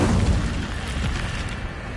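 A blast from the Incendio fire spell in Hogwarts Legacy: a loud, close, deep whooshing boom that swells at the start and rolls on steadily for about two seconds, with no talk over it.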